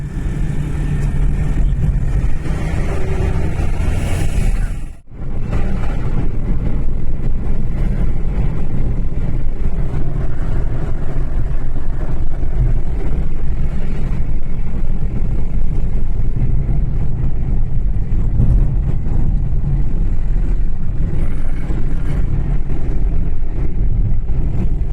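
A car drives steadily along a road in Kerala, a continuous loud engine and road rumble that holds even throughout, with one brief dropout near the start.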